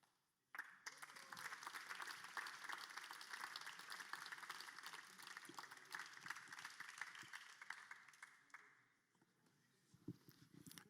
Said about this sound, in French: je voudrais qu'on applaudisse très fort le ou la gagnante